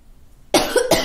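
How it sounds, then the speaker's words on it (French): A woman gives two quick, close, loud coughs after a short silence. "je suis désolée de tousser"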